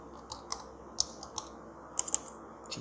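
An email address is typed on a computer keyboard in a short run of close, crisp key clicks at an uneven pace over a quiet background hum.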